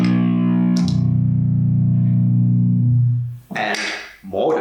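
Electric guitar through a distortion pedal, on a rig with a sub-octave pedal in the chain: a loud, sustained, fuzzy low chord that rings for about three seconds, then clipped, gritty bursts as the strings are struck again.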